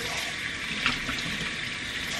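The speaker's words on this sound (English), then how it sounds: "Maghuhugas lang ako ng pinggan." Dishes are washed under running water from a tap, a steady close hiss of flowing water with faint clinks, alone and moderately loud.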